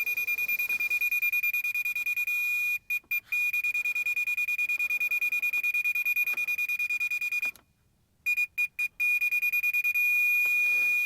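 Leveling equipment used in floor prep for a heated concrete slab gives a steady, piercing high-pitched beep that runs almost continuously, broken by a few quick stutters and one brief silence.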